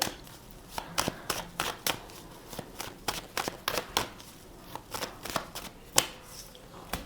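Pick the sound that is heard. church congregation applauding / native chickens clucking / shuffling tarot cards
shuffling tarot cards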